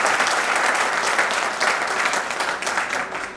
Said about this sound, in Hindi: जोरदार ताली तो बजना चाहिए